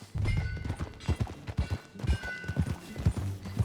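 Horse hooves clip-clop at a steady riding gait in Red Dead Redemption 2, close and fairly loud, with irregular thudding beats over a low rumble of ambient game sound.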